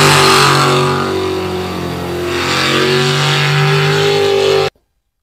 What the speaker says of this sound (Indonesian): Perahu speedboat.